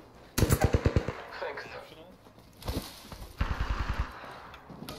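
Two loud, rapid bursts of automatic gunfire from a gun in a video game, each a quick run of sharp shots, separated by a short gap, with faint game sounds between and a voice at the end.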